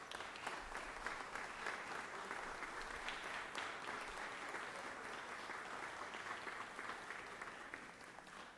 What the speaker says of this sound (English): I'd ask if you could give them a round of applause this morning